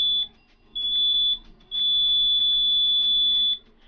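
A shrill electronic alarm buzzer from a homemade laser home security circuit with a laser beam and LDR sensor, sounding in long steady tones that cut off twice briefly, loud and alone with no talk.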